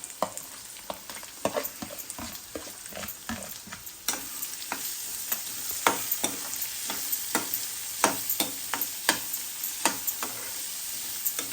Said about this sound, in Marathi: कांद्याचा आता कलर बदलेपर्यंत तो थोडा परतत राहायचा